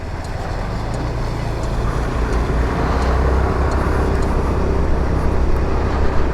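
A Sym Joyride 300 scooter creeps slowly through snow, its engine drone and road noise forming a constant, loud, broad rumble with no distinct breaks.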